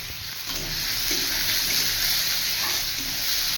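Onion and green chilli fry in hot oil for a mixed tarka, giving a loud, dense, continuous sizzle close by that holds steady throughout with no talk.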